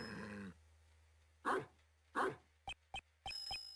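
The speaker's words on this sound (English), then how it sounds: "Oh, it's a dog." A game dog in Ace Attorney Investigations 2 gives two soft bark-like bursts, followed by a series of short clipped text-blip sounds, with no talking.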